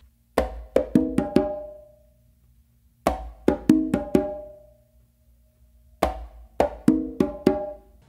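Conga drums play a tumbao with open tones and slaps on the main drum, three short bursts of quick strikes separated by pauses, close and alone.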